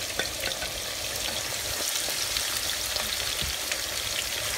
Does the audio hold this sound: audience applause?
no